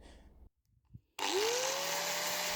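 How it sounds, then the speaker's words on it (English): A power sander smoothing the edges of cut pieces for loft stairs starts up loudly after a short quiet pause, its steady whining motor rising in pitch and holding a constant drone. "Sanding the edges, make them smooth."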